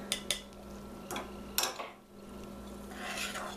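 A spoon clinks and scrapes against a pot while creamy peanut butter and vanilla are stirred into a no-bake cookie mixture, with a few sharp knocks early on and then quieter rubbing, all fairly soft.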